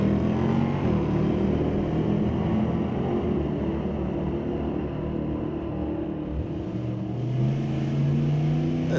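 Two drag cars, a 1973 Nova and a 1966 Chevy II, racing down a strip: a steady loud engine roar throughout, with a rising high-pitched drone emerging near the end as one car pulls away.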